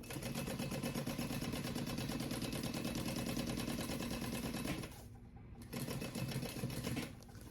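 A sewing machine top stitches a convertible crossbody bag in a steady, rapid run of stitching that pauses briefly near the end, then resumes close and clear.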